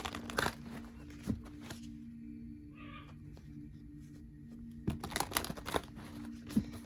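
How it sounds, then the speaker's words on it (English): Old tarot cards are shuffled by hand, giving soft papery riffles and rustles at the start and again in a denser run near the end, with a quiet stretch between. "Let me give it a couple more shuffles."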